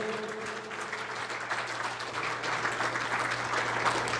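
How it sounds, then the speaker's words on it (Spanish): Sustained applause from a church congregation during a sermon, many hands clapping in a broad, even roar that holds steady throughout with no talking over it. "Denle un aplauso al Señor con todo su corazón."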